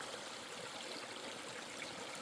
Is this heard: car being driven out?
no